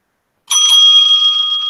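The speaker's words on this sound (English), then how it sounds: "The timekeeper will ring the bell once at the 2nd minute as a last minute warning" A debate timekeeper's hand bell struck once, giving a bright, clear ring that starts abruptly after a moment of silence and rings on steadily as it slowly fades.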